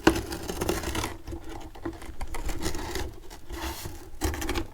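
A carton sizer reducer tool is pushed along a cardboard shipping box, giving a close, uneven scratchy rasp and patter that comes in bursts between brief pauses, with no speech.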